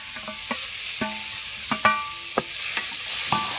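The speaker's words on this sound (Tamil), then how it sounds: "நல்லா கிளறி விடணும்." Spatula scrapes and taps against a pan while onions and tomatoes fry for a guinea fowl biryani, about eight distinct strokes over a steady sizzle, close and clear with no talking.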